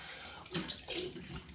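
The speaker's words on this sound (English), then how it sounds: "I'm just going to get some cold water going in a minute" Cold water running from a bathroom tap into a sink during a shaving routine, a faint close splashing stream that varies as hands move through it, with no talk.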